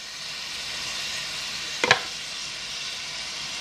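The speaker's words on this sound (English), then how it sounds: "we are going to get this shrimp cooking" Shrimp sizzle steadily in a hot pan with a constant bright hiss, broken midway by a brief clink and stir.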